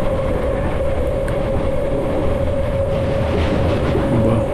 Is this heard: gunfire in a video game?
no